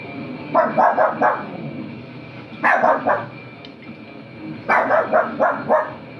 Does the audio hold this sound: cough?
no